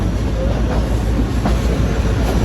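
The 146 Down Sukkur Express rolls in on the down line, a loud, steady, close rumble of wheels on rails with faint rhythmic clacking throughout.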